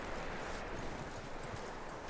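Horse hooves clop quietly and steadily on a dirt track in the Western video game Red Dead Redemption 2, blended into a continuous wash of ambient noise with no voices.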